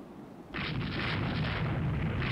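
Pre-dreadnought warship guns fire in a naval battle in the video game Rule the Waves 2, one sudden heavy boom followed by a sustained rolling roar.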